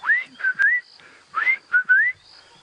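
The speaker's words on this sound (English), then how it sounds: "first bird we heard there was a southern boo-boo going" Several clear, rising whistled notes from a southern boubou, in short paired phrases with brief gaps, fairly close and alone, on an African safari sunrise drive.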